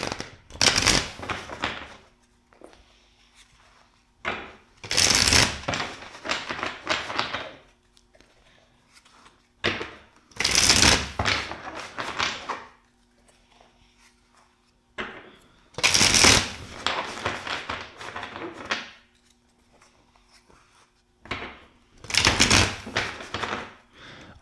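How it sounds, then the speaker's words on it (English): Repeated bursts of a tarot deck being shuffled, four crisp riffling rounds close up with short quiet pauses between them. "let's shuffle the deck four times for you"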